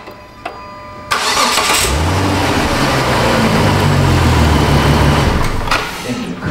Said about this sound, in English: Engine cranked.